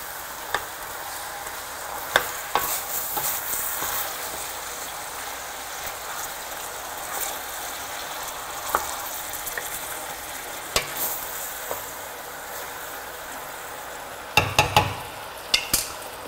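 Meat and onions fry in a pot with a low, constant sizzle while a utensil stirs, giving scattered scrapes and clinks that grow into a cluster of sharper knocks near the end.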